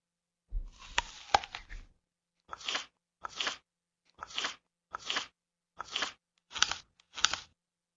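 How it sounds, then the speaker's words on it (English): Food is chewed with sharp, crisp crunches: a burst of irregular bites first, then six evenly spaced crunching chews, close and clear with silence between each. "You should chew and chew and"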